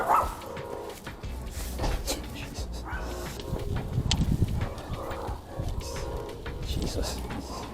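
A dog barks and whimpers close by, with repeated yaps and whines, while people talk over the noise during a food delivery stop.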